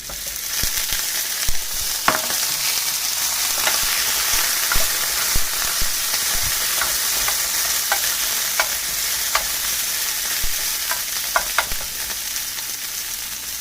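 Broccoli stir-fried in a pan, a steady loud sizzle with scattered spatula clicks and scrapes throughout, close up and with no voices.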